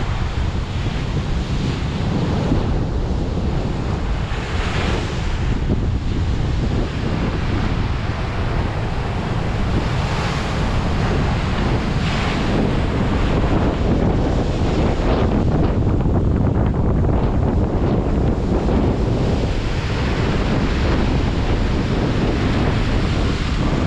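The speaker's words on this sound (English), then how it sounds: "It comes here, yeah, when the wave is big" Ocean waves break and surge continuously on Aberdeen beach in Scotland, with heavy wind buffeting the microphone throughout; the rolling roar of surf stays loud and close with no one speaking.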